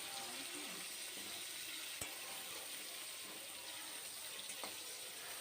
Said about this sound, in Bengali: এখন আমি আবার নাড়াচাড়া দিয়ে দেবো ফুলকপিগুলো।